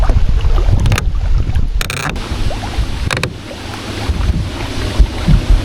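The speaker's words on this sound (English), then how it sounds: "it is really windy right here" Strong gusts at a lake buffet the microphone with loud, rumbling wind noise, broken by sharp flaps and rustles.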